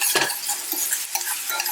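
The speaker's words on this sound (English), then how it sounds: "You see it's all frying in the beef fat there." Steady sizzling of beef and garlic frying in beef fat for ramen, with a clatter of stirring near the start and soft scraping throughout.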